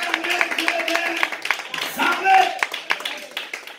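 A church congregation claps and cheers at a French-language sermon, a scattered burst of applause mixed with shouting voices and exclamations, with individual claps popping out near the end.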